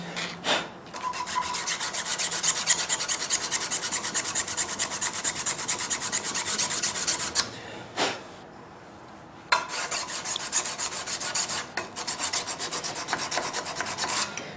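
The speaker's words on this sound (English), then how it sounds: "I'm sanding up here on this portion because some of that may show when we put our handle on" Sandpaper rubs back and forth on a custom knife handle from a knife-making kit in steady, rasping strokes. The sanding is close and continuous, with one brief pause partway through, and no voices.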